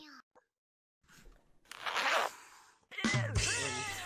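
A zipper is pulled open in VRChat, a quick rasping zip after a near-silent pause, followed by a voice with a short vocal sound.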